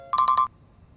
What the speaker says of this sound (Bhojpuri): जानकी, ऑफिस से बहुत अर्जेंट फोन आइल बा